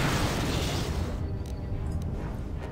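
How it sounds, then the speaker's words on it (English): A sonic grenade from Star Wars KOTOR 2 goes off in a broad, loud blast that fades over a couple of seconds into a thinning rumble, heard alone. "Here, have a sonic grenades."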